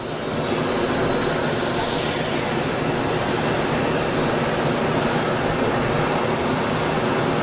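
A jet plane passes directly overhead at Geneva Airport, a loud steady broadband engine roar with a high whine holding for the whole stretch, no voices.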